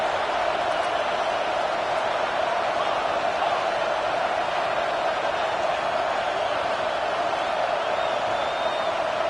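A packed football stadium crowd roars loudly at the start of the game's first drive, a dense, unbroken wall of noise that holds steady throughout.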